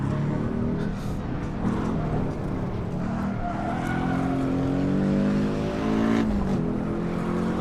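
A Porsche engine in a racing video game accelerates on track, a loud steady rising engine tone with climbing harmonics and a shift or dip near the end, no talk over it.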